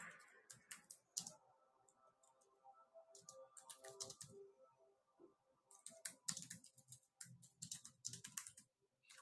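Someone types on a computer keyboard nearby, giving quiet bursts of quick clicking keystrokes broken by short pauses, with faint background murmurs and no clear talking.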